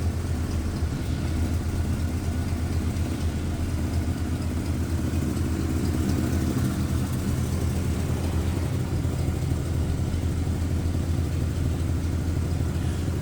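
A 1953 Ford Customline Tudor sedan's flathead engine idles smoothly and steadily, a continuous low rumble with an even hum that holds at constant level throughout.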